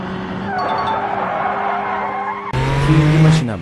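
Chevrolet Monza racing in BeamNG.drive, a steady engine drone with tire squeal, then a harder, louder rev after a brief cut near the end.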